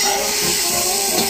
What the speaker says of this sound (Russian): И вот, как вы видите, жарим небольшими порциями.